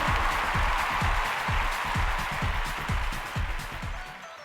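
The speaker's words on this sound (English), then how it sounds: "a round of applause for our contestants today" Children applaud contestants at the end of a timed word game for grades one to five, the clapping loud at first and thinning out, with several distinct heavy thumps running underneath.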